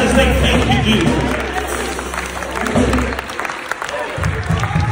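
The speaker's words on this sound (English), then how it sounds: "clap your hands and say thank you, Jesus." A church congregation claps hands during a sermon, a dense, steady wash of applause mixed with crowd noise and some voices, fading briefly near the end before rising again.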